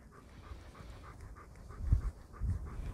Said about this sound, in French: dieser große Hund ist einfach so aufgetaucht